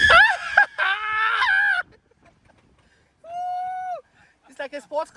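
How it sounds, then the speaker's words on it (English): A passenger screams loudly in a Ford F-150 Lightning electric pickup during hard acceleration on a ride-along at the 2023 Miami International Auto Show, several long shrieks broken by short gaps, with other voices briefly at the end. "I've never had anybody scream like that."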